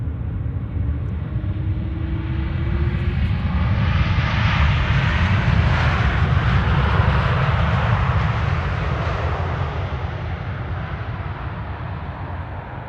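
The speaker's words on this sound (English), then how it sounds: "KLM flight 606 is arriving from San Francisco. 787-10 Dreamliner" KLM Boeing 787-10 Dreamliner arriving at Amsterdam Schiphol Airport, a loud, steady jet roar that swells to a peak mid-pass and slowly fades, heard from a distance with no talk.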